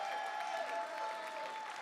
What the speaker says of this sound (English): Let's give a round of applause to the supporting parents out here.